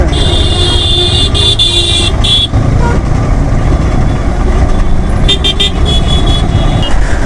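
Heavy road traffic near the Mahatma Gandhi Setu bridge over the Ganga in Patna: a dense, loud rumble of cars, trucks and motorcycles, with clusters of short horn toots early on and again near the end.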